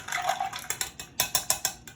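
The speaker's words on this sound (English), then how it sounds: "I'm just gonna give these a stir with the ice." A Paloma cocktail being stirred with ice gives a quick run of close, bright ice clinks and rattles against the mixing vessel, falling into a regular rhythm toward the end.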